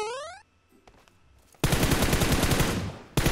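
In the video game PUBG, a loud, close burst of rapid automatic gunfire breaks out after a short quiet stretch, stops briefly, then starts again.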